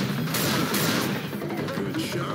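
Steady, dense gunfire crackles in Left 4 Dead 2 during the Boathouse finale, loud and continuous with overlapping shots throughout.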